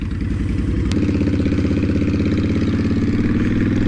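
A 2010 Honda Fury motorcycle engine while riding, a loud steady V-twin rumble with a rapid pulsing beat that deepens and thickens after a sharp click about a second in, continuing strongly with no talk.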